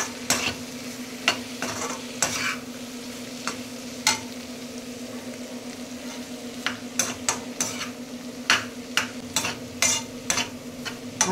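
Part-cooked tomato, vegetables and green chilli are tipped into a pan for semiya upma and stirred. Repeated sharp spoon scrapes and clinks sound against a quiet sizzle and a steady low hum.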